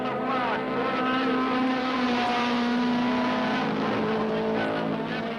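Race cars roar around a short raceway during a six-lap final, a dense, loud, continuous layering of engines with shifting pitches as cars sweep past.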